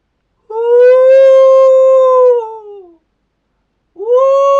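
A human voice imitates a wolf howling in a French children's tale, with one long, loud, close howl that slides down at the end, followed after a pause by the start of a second howl.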